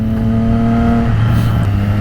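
A Triumph Trident 660 motorcycle on a ride, its engine running loud and steady close up with a sustained droning hum and slight pitch shifts, no voices.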